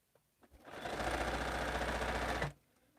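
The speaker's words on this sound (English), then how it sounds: "Fast sewing here." A sewing machine runs fast while piecing quilt blocks, with a brief couple of clicks before its rapid, even mechanical chatter starts, holds steady for about two seconds, then stops abruptly.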